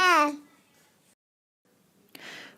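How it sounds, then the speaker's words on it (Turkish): A baby gives a short, bright babbling vocalization at the start, then goes quiet. A faint, breathy sound follows at the end. "bundan sonra bebeğimin sesini de duyabilirsiniz videolarda"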